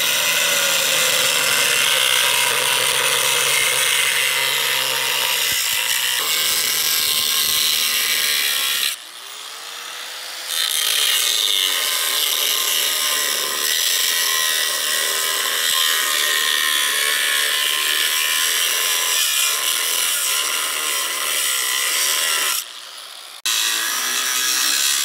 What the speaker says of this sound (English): So we got the brake booster all marked up, ready to cut.